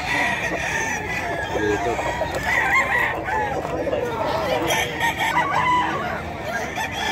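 Roosters crow repeatedly at a busy chicken market selling gamefowl such as hatch breeds, with overlapping calls and clucking amid crowd noise and brief talk nearby.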